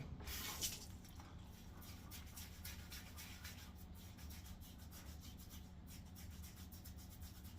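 Close, steady soft rubbing and swishing of a shaving brush working Lockhart's Authentic Barbershop shave soap lather, a continuous faint bristly scrub with no talking.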